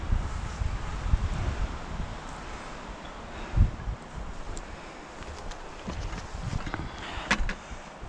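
Outdoor wind blowing on a snowy day with a north wind, a steady broadband rush and buffeting that rises and falls in gusts, with occasional louder bumps, and no voices.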